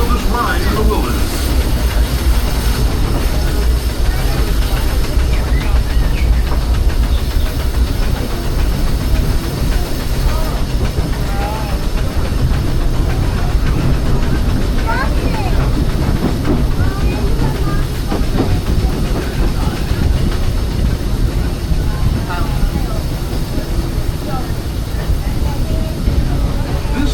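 The Disneyland train rolls along the rails with a continuous loud rumble and faint rhythmic clatter, steady throughout with no pauses.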